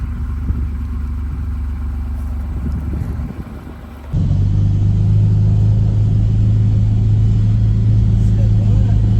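A Gator utility vehicle engine struggles, then catches and settles into a loud, steady, close idle rumble after a brief drop in level midway.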